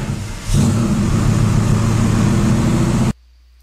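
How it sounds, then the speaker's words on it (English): A Farming Simulator 2013 car engine cranks and catches, then settles into a steady loud rumble for a few seconds before cutting off abruptly. "let's go ahead and start the car."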